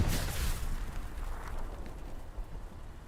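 Artillery explosions rumble in the video game Hell Let Loose, a loud heavy blast opening the clip and a dense low roar of further detonations and debris rolling on continuously for about three seconds.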